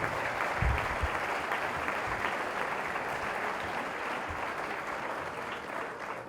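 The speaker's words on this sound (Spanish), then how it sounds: "quiero un aplauso para todos vosotros" A conference audience at the Hotel Wellington applauds itself, a broad, steady round of many hands clapping for over six seconds, somewhat distant and even, with a couple of low thumps early on.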